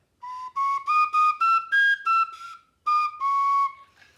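A small recorder lacking a back thumb hole plays a quick phrase of separate piping notes stepping up and down, then a short pause and two more sustained tones, heard close and solo.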